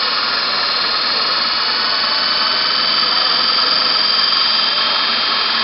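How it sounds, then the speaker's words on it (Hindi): A DC motor spins at maximum speed with its brushes sparking only slightly, producing a loud, unbroken high-pitched whine that holds perfectly steady throughout. "अभी इस जगह जो है मिनिमम स्पार्किंग हो रही है और मोटर की स्पीड भी जो है वो अधिकतम पर है"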